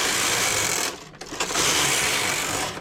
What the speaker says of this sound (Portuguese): o barulho é bem mais alto do que uma malha normal, uma malha lisa